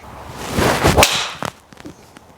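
A single sharp whooshing crack of a PXG 0211 golf driver striking the ball, loud and close, followed by a few faint clicks and quiet rustling.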